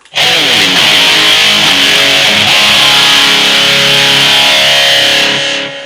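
A heavily distorted electric guitar rings out in a sustained chord in a 1970s style tone, its sound sweeping with a swirling phaser effect before cutting off.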